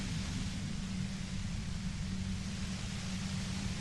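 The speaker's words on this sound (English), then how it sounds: "The explosion of static you're hearing is the ULAN frequency, blasted from that pale emitter that Angus mentioned." Dense, steady hiss of radio static from the ULAN frequency broadcast by a pale emitter in Disco Elysium, a loud, continuous wash of noise with a low rumbling undertone and no pauses.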